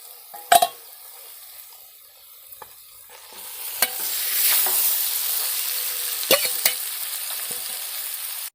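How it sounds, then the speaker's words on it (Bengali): Marinated mutton tipped into hot oil in a kadai, a few sharp metal clanks of the spoon, then a louder, sustained sizzle with stirring scrapes and further clinks, all close by. "এবার আমি ম্যারিনেট করা মাংসটাকে দিয়ে দিচ্ছি।"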